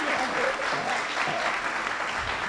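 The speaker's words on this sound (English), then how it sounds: "I want to add a round of applause for these wonderful writers." Steady, dense applause from a book festival audience honoring a panel of fiction writers, filling the whole stretch evenly without pause or voices.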